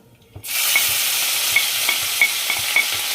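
Dried red chillies, asafoetida and a freshly pounded spice masala fry in mustard oil in a kadhai, a loud steady sizzle bursting in after a quiet start, with occasional stirring scrapes and clicks.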